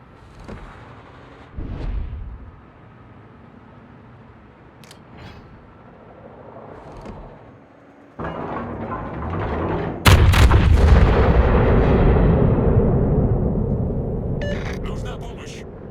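Heavy naval gunfire from a Conqueror battleship in World of Warships, with scattered booms early, then loud sustained salvo blasts and rumbling from about eight seconds on, under intermittent voice lines.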